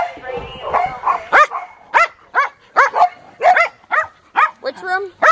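Several dogs bark and yip in short, sharp bursts at close range, the barks repeating at an uneven rhythm, some higher and whinier than others.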